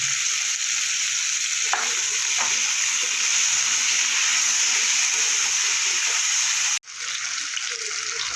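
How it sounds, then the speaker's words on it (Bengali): Potatoes sizzling and frying in a pan with salt and turmeric, a steady loud hiss with occasional stirring scrapes, briefly cut off near the end, no talk. "একটু হলুদ দিয়ে আলুটা আমি একটু ভেজে নেব।"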